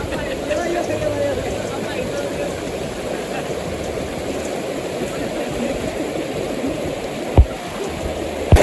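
A shallow stream rushes steadily over slippery stones, a constant close watery wash with brief splashes near the end.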